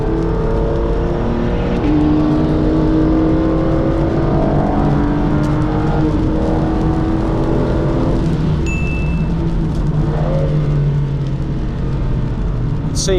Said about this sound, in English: I'll let this Ginetta race car come past on the left.